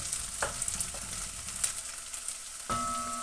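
Onion sizzles and fries in a pan for mushroom risotto, a steady close crackle with a few light clinks of stirring and a fresh burst of hiss near the end.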